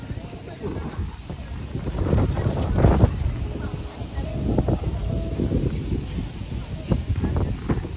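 Gusty wind buffeting the microphone at a highland mountain overlook above a river, a loud, rumbling roar that rises and falls, with people talking faintly underneath.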